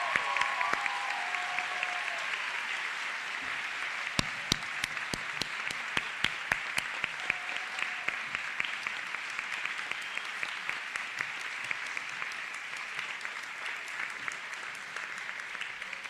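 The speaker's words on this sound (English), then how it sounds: "can we all give a round of applause for Miss Ann Balfour" An audience at a high school recognition night gives sustained applause, a long, steady wash of clapping with several sharp, close claps standing out near the start, lasting about sixteen seconds.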